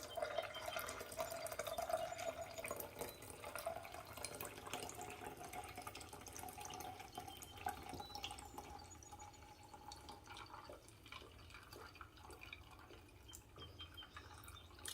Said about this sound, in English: I'm going to slowly pour this over my ice cubes